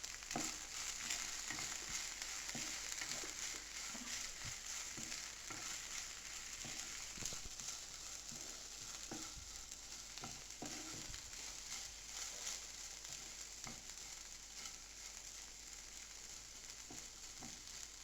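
Okra curry fries in a pan, with chili powder sprinkled in near the end: a constant close sizzle with scattered light stirring clicks and no talking.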